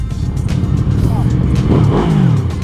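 A QJMotor SRV 600 cruiser motorcycle revs with a loud, close, throaty growl whose pitch rises and falls, while people talk over it.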